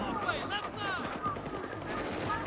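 Rapid gunfire rattles through a Battlefield 3 match, a dense automatic crackle of shots layered over constant game noise at steady loudness throughout.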